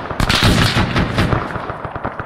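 Gunfire in a video-game firefight: loud, close rapid bursts of machine-gun shots with sharp cracks and booming reports, tapering into scattered shots.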